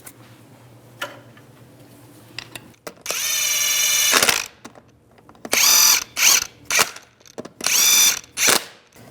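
A power tool drives lug nuts onto the rear wheel of a 2002-2009 Chevrolet Trailblazer, sounding as a long loud whirring burst followed by several shorter close bursts, with quiet handling clicks between them.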